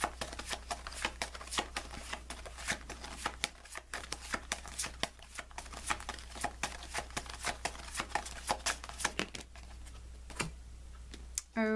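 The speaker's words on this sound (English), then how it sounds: "Give it a good shuffle here." Soft, rapid riffling and tapping of an oracle card deck being shuffled, a long run of light clicks and flutters close by and quiet over a low background hum.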